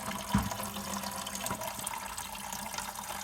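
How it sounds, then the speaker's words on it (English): Coolant draining from a loosened valve on a Ford Model A into a bucket, a steady close trickle and splash of liquid that runs on without pause for a few seconds. "Okay, so loosen the valve. Let that drain in my bucket here."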